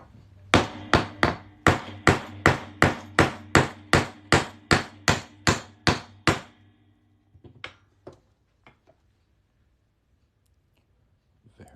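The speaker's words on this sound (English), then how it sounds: "we're going to hammer this punch through this coin" Fifteen sharp, evenly spaced metal hammer strikes ring out close by as a punch is driven through an 1883 Morgan silver dollar, then a few softer scattered taps before it goes quiet.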